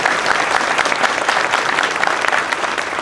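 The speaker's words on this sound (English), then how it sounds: "Let's give a big round of applause for James." A crowd at an outdoor Memorial Day ceremony in Gloversville gives a steady, dense round of applause, many hands clapping together loudly and evenly throughout with no break.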